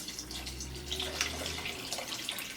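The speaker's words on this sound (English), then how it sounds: "add the water. I'm going to add another pitcher to that." Water poured from a pitcher into a pot of soup with onions, carrots, green beans and potato, a steady close splashing stream running throughout.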